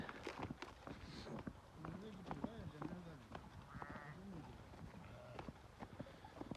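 Several sheep brought down from mountain pasture in Turkey bleat in short wavering calls amid hoof clatter and shuffling, with people talking nearby.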